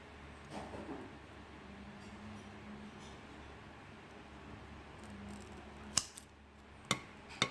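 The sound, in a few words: shears snipping a Rhaphidophora tetrasperma plant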